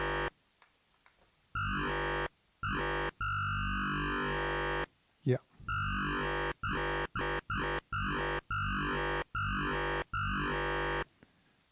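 A Yamaha DX7 synthesizer robot voice patch sounds in a series of buzzy, distorted, vocal-like notes, with one long tone rising slowly under its envelope and then shorter repeated bursts, loud and close with a brief spoken word between.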